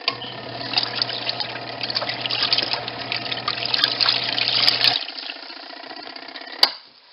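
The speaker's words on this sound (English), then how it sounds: "My rinse cycle is almost done." Water sloshing and running in a washing machine on its rinse cycle, a steady churning wash with a low motor hum that cuts off near the end, followed by a brief clunk.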